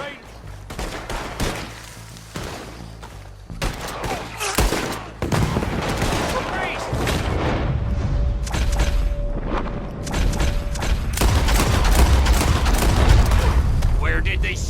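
Gunfire from a shootout with raiders in Red Dead Redemption 2: scattered shots and dense volleys crack close and loud, building into sustained fire while voices shout over it.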